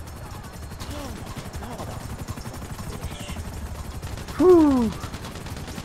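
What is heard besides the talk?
gunfire in video game GTA V Online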